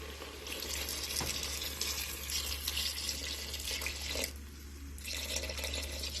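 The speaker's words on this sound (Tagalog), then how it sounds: "Dagdagan natin ng tubig kasi medyo tuyo eh." Steady running water pours into a cooking pan of stir-fried bottle gourd for several seconds, broad and continuous, briefly thinning near the end before resuming, with a low hum underneath.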